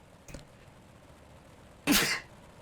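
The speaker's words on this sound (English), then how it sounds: "I have to sneeze." A person sneezes once, loud and close, a sharp burst after a faint sniff, in a quiet room during an iRacing Big Block Modified session at Cedar Lake.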